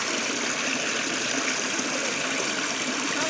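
A river on the wooded slopes of Mount Moroto rushes steadily in a continuous broadband wash, close and fairly loud, with no voices over it.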